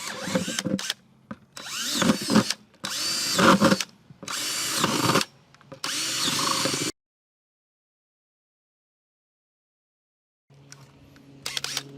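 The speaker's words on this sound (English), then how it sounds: "And we're just going to drill a bunch of holes around here." A power drill whirs in repeated short bursts, biting through a plastic bucket with each hole, then stops for a few seconds before starting again.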